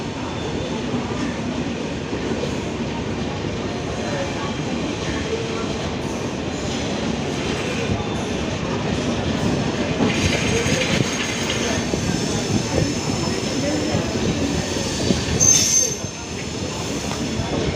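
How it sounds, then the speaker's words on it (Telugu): A Bhubaneswar–Tirupati weekly superfast express train rolls past with a steady, loud rumble and rattle of wagons, wheels squealing in bursts as it goes by near the platform. "Bhubaneswar Tirupati weekly super fast express"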